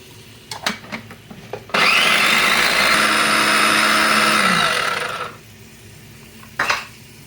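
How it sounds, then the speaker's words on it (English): Garlic is ground in a blender, a loud whirring burst of about three and a half seconds, framed by clattering handling noises before and after. "That's your garlic all nice and ground up."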